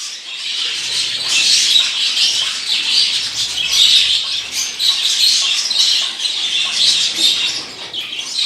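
A caged male rosella parrot gives its mating call, a run of shrill, repeated squawks and chirps in uneven bursts, close and fairly loud.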